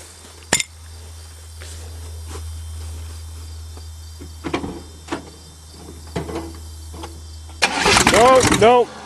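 An old car being cranked for a cold start, with scattered clanks and a low hum before a dense burst of starter and engine noise near the end, close and fairly loud.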